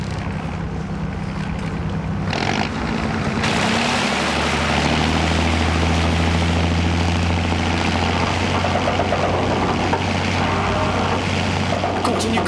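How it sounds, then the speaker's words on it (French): Boat engine throttled up to full power, a loud, steady drone that rises and settles into a heavy low rumble, with water wash underneath and no voices. "C'est bon, Georgie, envoie les gaz."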